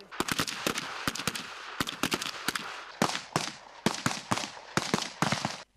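Rapid, loud rifle shots crack out at a shooting range in quick irregular bursts, many in a row with short gaps, close and sharp in an open space, fired from a standing position.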